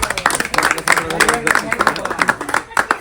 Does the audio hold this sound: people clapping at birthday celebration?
yes